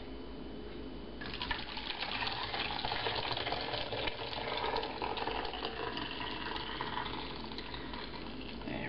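Goat cheese curds and whey are poured slowly into cheesecloth, starting with a quiet hum before a sudden wet, splashing flow that runs steadily and close for several seconds.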